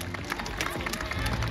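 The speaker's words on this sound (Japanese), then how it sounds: "声援が飛んでます。" A crowd applauds and cheers at a Japanese football talk show as former Yokohama F. Marinos midfielder Kosuke Nakamachi appears, a continuous wash of clapping with voices rising within it.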